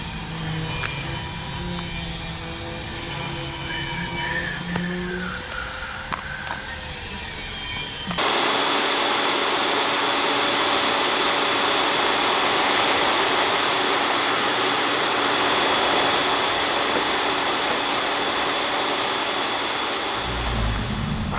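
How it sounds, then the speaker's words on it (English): A belt sander grinds steadily across a water-damaged metal boat hull being stripped for barrier coat, a loud continuous broadband roar that starts abruptly partway through and holds at an even level to the end, with quieter workshop noise before it. "So I got the belt sander on it"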